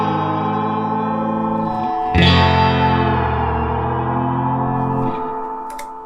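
An electric guitar plays through the Elk Echo Custom Amp 60 with its reverb set around 7, sustained chords ringing with a lush echoing tail that decays slowly after each strum.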